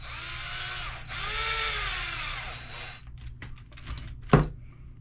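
A power drill drives aluminum screws back into a drag-racing motorcycle build, whirring steadily and close for about three seconds before giving way to light clicks, taps and one sharp knock.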